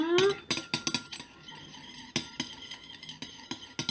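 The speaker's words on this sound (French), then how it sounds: "Je mélange bien, je mélange bien" Bath bomb ingredients being mixed in a bowl, with a series of sharp clinks and scrapes of a utensil against the bowl, closely spaced and near, with no talking.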